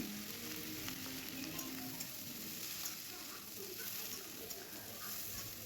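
Jackfruit pieces and small shrimp fry and are stirred in a pan, giving a steady close hiss of sizzling oil with soft scraping from the spoon throughout, no voices.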